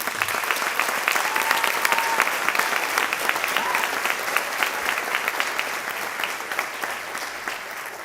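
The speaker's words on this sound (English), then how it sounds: "So let's give them a round of applause." Crowd at a varsity sports awards night applauding a volleyball team's sectional championship, a sustained, dense round of clapping with sharp individual claps standing out and slowly tapering off toward the end.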